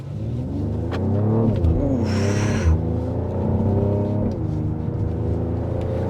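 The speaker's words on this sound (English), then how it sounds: "I'm gonna put it in Sport Plus so we get a louder exhaust notes." A 2024 Mercedes GLE 53 AMG Coupe SUV in Sport Plus mode accelerates, its deep, rumbling exhaust revving and climbing through the gears, loud and close, with a throaty drone and a brief hiss midway.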